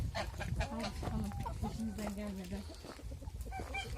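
Hens cluck and murmur in a steady chorus close by, with a person talking over the birds throughout.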